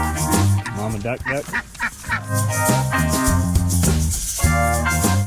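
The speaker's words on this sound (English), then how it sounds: "Mama duck." A mother duck on a homestead compound quacking loudly and repeatedly at close range in harsh, rhythmic bursts, with a voice talking briefly over the calls.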